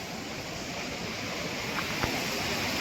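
Tahuli waterfall near Ambernath swollen with monsoon rain, a steady broadband roar of rushing water that stays even and unbroken throughout, with no voices.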